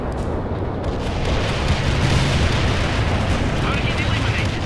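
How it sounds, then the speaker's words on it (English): Continuous heavy artillery barrage in the World in Conflict strategy game, a dense, loud rumble of overlapping blasts with no pauses, steady throughout and faintly layered with distant crackle. "Heavy barrage annihilated the enemy at the coordinates."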